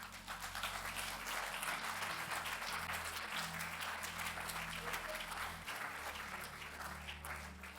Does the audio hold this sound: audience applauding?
yes